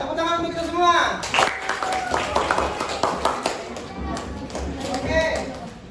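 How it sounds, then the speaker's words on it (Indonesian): A classroom group of students claps for themselves after finishing their presentations, with scattered hand claps rising at the start and continuing in bursts under a teacher's speaking voice. "Tepuk tangan untuk kita semua."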